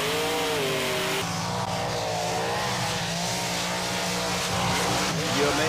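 Monster trucks racing head-to-head at a beach event, loud roaring engines revving hard and sustained with shifting pitch, close and continuous throughout with no talk.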